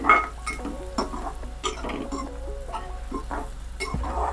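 A spoon scrapes and taps against a pan as sliced tondli (ivy gourd) with onion and turmeric is stirred and sautéed over a low flame, making close, repeated light clinks and scrapes.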